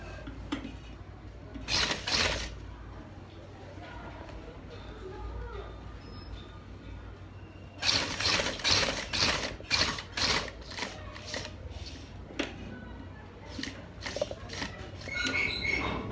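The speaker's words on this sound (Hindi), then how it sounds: "ऐसे ही डबल सिलाई यहाँ पर भी करेंगे।" A sewing machine double-stitches a kameez, giving off soft mechanical clicking and short ratcheting runs of stitches in bursts, fairly quiet and close, with pauses of low background hum between them.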